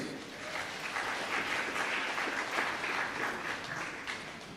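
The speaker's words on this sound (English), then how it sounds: "Give yourself a round of applause." Graduates applaud at a graduation and awards ceremony, a dense, even roar of many hands clapping that holds steady and loud for the whole stretch.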